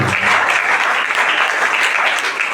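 Church congregation applauding loudly during a worship service, a dense, sustained clatter of many hands clapping close by, with faint voices mixed in.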